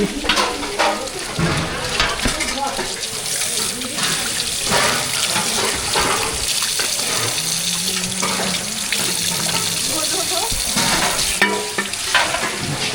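Food being rinsed under a running tap at a Kali temple kitchen in Burdwan, a continuous loud splashing stream with clatter and handling noise throughout, close by, with faint voices in the background.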